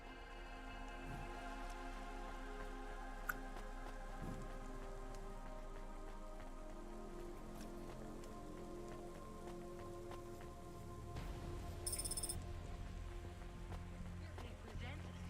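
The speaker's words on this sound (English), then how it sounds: "Don't let all the rain get you down." Steady rain pours in the Cloudpunk video game, a constant soft hiss with a brief louder burst near the end, under a quiet low hum.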